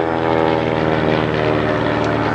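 A Cessna Bird Dog propeller aircraft passing low overhead, a loud steady droning engine hum with strong harmonic tones, sustained throughout the short clip with no talk.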